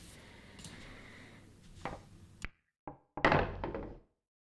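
Billiard balls clack together in an online 8-ball tournament match as the 6 is played, a few sharp knocks and taps over a quiet background, then a brief silence before a louder cluster of hits.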